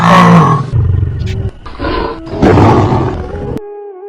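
A voice imitating a Royal Bengal tiger's roar, with several loud, drawn-out growling bursts broken by short pauses, up close.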